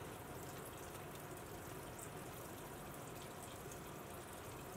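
Tap water runs steadily over a Gram stain slide in a lab, a faint, continuous hiss with no breaks and no voices.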